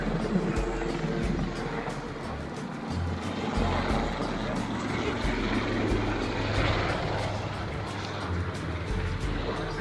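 A Lynx helicopter flies an aerobatic display at the Farnborough airshow, its rotor and engine droning steadily from a distance while a commentator speaks over it at a public address.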